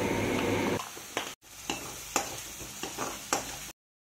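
Onions with dried chillies and turmeric are stir-fried in oil, a close sizzle punctuated by several sharp spatula scrapes and taps against the pan, with no talking.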